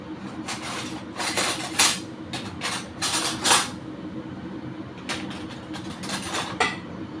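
A spoon scrapes and clinks against a pot while sago pudding is stirred into boiling milk, irregular metallic knocks and scrapes in bursts, close and fairly loud.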